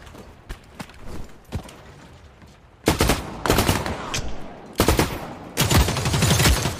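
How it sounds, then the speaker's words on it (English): Gunfire from the video game The Cycle: Frontier, scattered single shots early on, then loud rapid bursts of automatic fire at close range in two sustained stretches. "He's returning fire."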